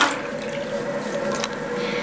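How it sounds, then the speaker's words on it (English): A fairly fancy dorm toilet flushing, a steady rushing of water that runs evenly throughout without any voices. "I'll go and flush it for you."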